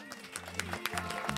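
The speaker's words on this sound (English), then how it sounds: "please, one more round of applause for Alejandra" Audience at a storytelling event giving another round of applause, brief clapping mixed with a low tonal hum of music underneath.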